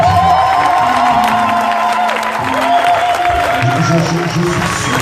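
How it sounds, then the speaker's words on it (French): A large church congregation cheers and shouts in acclaim of Jesus Christ, a loud, sustained roar of voices and whoops filling the whole stretch, with a few sung or held tones rising above the crowd. "est-ce qu'on peut acclamer Jésus-Christ"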